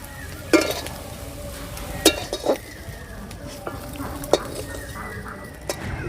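Fried prawns being lifted from a pan of hot oil for a village-style shapla prawn dish, with a steady soft sizzle beneath a few sharp metal clinks of a utensil against the pan.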